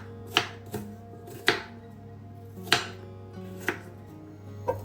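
A knife chops apples into small pieces on a board, giving about six sharp, separate thuds at an uneven pace, close and fairly loud against a faint steady hum.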